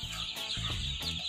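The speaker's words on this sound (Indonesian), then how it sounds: "Pak Chu, ini nak ambil ayam gajah pula, ada tak" Ayam gajah chickens clucking close by, a brief run of throaty clucks over a constant background hiss.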